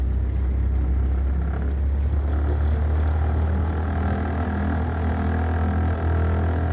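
A small ACREA Zest microcar's engine runs steadily in gear with a loud, continuous low rumble and droning hum throughout, close to the listener and with no talk over it.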